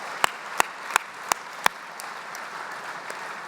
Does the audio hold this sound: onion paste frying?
no